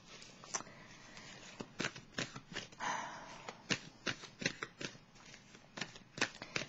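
Tarot cards are shuffled close up, making quick irregular flicks and riffling slaps at a soft level with no voice over them.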